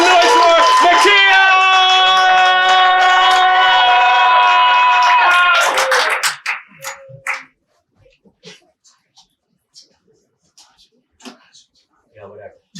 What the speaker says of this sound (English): Put your hands together. Start clapping. Make some noise for Nakia!